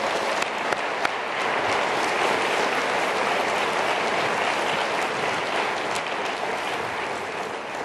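Sustained audience applause fills a conference plenary hall, steady and dense from start to finish with a few sharper claps standing out, no talking over it.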